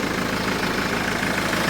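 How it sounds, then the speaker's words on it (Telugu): A car engine idling with the air conditioning switched on, a steady low rumbling drone with an even pulsing texture and a constant blower-like hiss above it, close and continuous with no voices. "ఏసీ ఆన్ చేసే మీకు ఇంజన్ సౌండ్ చూపిస్తున్నాను నేను."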